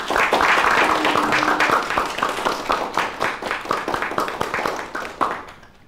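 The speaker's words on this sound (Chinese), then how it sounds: "大家鼓掌" Applause from a gathered group, dense clapping that starts loud, then thins into separate claps and fades out by the end.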